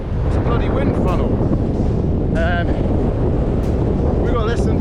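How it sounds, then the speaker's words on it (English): Strong wind roaring across the exposed summit of Windy Gyle, buffeting the microphone in a constant loud rush with brief voices mixed in. "It's a bloody wind funnel."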